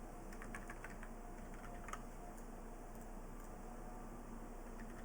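Fingers type on a computer keyboard in a quiet room, soft scattered key clicks close by over faint steady background noise, with no one talking.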